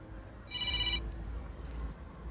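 A phone gives one short electronic ring burst lasting about half a second, fairly faint against low outdoor background rumble by the shore of the Kinneret.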